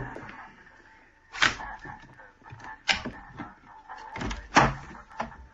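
A shop door is unlocked and opened for early customers in a radio drama. There are several knocks and clunks at moderate distance, with a rattle of the latch, and no talking.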